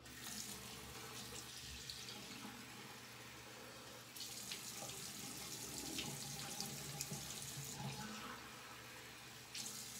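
A bathroom tap runs steadily while water is used to wet the face for a shave, a continuous close splashing hiss with brief shifts in the flow and a few louder spatters, no talk.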